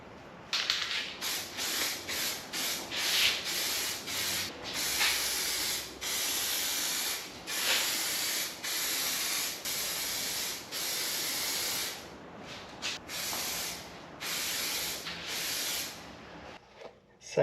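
Spray painting a coat of paint onto a motorcycle, a steady series of close hissing spray-can bursts, each lasting about a second, separated by brief gaps, with no talking.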